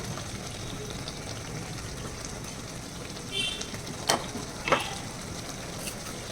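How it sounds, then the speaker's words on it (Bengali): Prawns sautéed gently with spices, salt and sugar in a pan for a Bengali fish curry give a soft, continuous sizzle, with a few brief louder scraping stirs near the end. "এটাকে কষাতে হবে খুব হালকা হাতে এটাকে মশলার সঙ্গেই কষাতে হবে"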